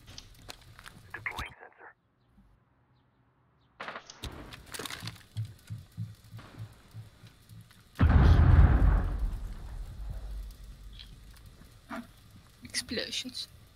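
Explosions in the video game Rainbow Six Siege burst out among scattered gunfire cracks and footsteps, the biggest a loud rumbling blast about midway. Players chat over voice comms between the hits.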